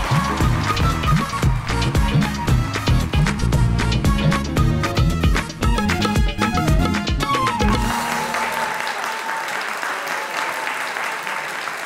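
A studio audience at a Pakistani talk show claps loudly to welcome actor Yasir Hussain, first under upbeat music, then as steady applause alone that slowly thins out.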